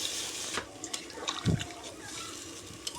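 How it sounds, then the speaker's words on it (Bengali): Broth poured into a bottle gourd curry cooking on a clay stove, a splashing, gurgling pour with a heavier burst midway over a soft background hiss. "এখন আমি ঝোল দিয়ে দিচ্ছি এখানে"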